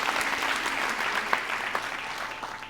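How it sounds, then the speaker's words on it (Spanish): A church congregation claps together in sustained, even applause with a few sharper claps standing out, close and steady throughout. "vamos a aplaudir todos juntos"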